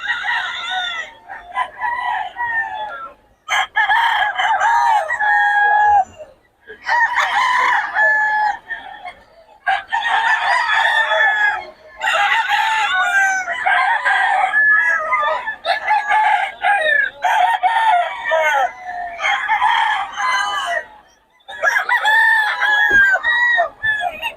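Several roosters crow loudly in repeated bursts, mixed with clucking chickens, close and almost continuous with only short pauses, at a poultry market in Bocaue.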